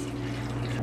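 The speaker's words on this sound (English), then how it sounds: "We will need 4 cups of water, so this is 2 cups." Water poured from a cup into a pot holding dry split peas, a brief, steady splashing rush at close range with no talking.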